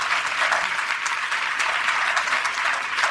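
Steady, dense applause from a congregation at a village sermon gathering in Pind Bodla, sustained and even throughout, with no speech over it.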